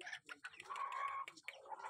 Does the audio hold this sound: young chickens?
yes